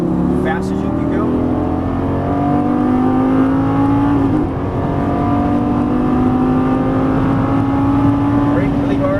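A Lamborghini Gallardo LP550-2 accelerates hard on a track, its engine rising steadily in pitch through a long pull with a brief shift midway, loud and close throughout, with an instructor's voice coaching over it.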